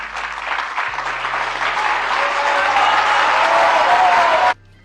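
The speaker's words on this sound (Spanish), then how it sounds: "Interesante escuchar cómo los aplausos comenzaron tibios." Crowd applause following a victory speech at a Mexican presidential election night, clapping that builds from a modest start to a fuller, steady roar before cutting off abruptly, with low background hum.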